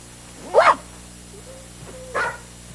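A human voice imitates a dog barking, giving two loud, separate woofs with a brief gap between them, close and clear.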